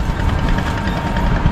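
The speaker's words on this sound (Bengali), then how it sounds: "মেশিন চালিত নৌকা" A motorboat engine on a muddy river near the Kaunia railway and road bridges drones steadily, a dense low rumble with constant vibration and no pauses.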